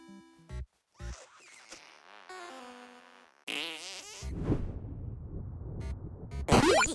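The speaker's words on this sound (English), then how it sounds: "And don't ever, ever fart on a man's balls." Cartoonish fart blasts from the South Park: The Stick of Truth video game come in several bursts with buzzy, wobbling tones, with short gaps of silence and a louder sputtering final burst.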